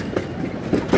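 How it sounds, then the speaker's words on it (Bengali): A heavy tram rolls along a city street outside a medical students' hostel, a rumbling low clatter with a few wheel thumps swelling toward the end of a brief moment. "রাস্তায় ভারী ট্রামের চলাচলে মেডিকেল ছাত্রাবাসটা মাঝে মাঝেই কেঁপে ওঠে।"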